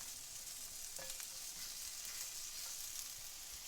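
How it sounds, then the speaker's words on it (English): Steak and garlic sizzle steadily in a frying pan, a dense continuous hiss heard close with a faint clink of stirring near the start and no talking. "add the steak. And we're going to cook that until it's brown."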